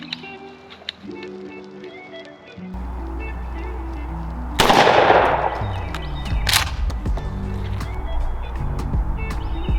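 A Mossberg 835 shotgun fires 3.5-inch #6 shot shells while patterning for turkey. Two loud, sharp blasts sound about two seconds apart over a steady low background hum.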